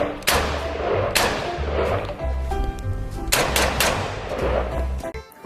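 Red toy AK-47 plays an electronic gunfire effect: two long bursts of rapid, loud machine-gun shots with an echoing tail between them, close to the microphone with no talking.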